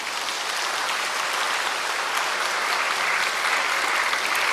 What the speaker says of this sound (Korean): 박수 한번 쳐드리십시오